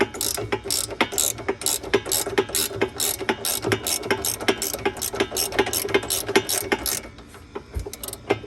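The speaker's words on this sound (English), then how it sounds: "So we're just going to use socket set. The ratchet." A socket-set ratchet turns on BC Racing coilovers in a rapid, loud run of metallic clicks that continues steadily for several seconds before stopping, with no talk.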